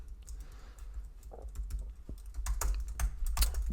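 Fast, uneven clicking of computer keyboard keys while someone writes code, close and fairly quiet, rattling in short bursts that grow busier toward the end.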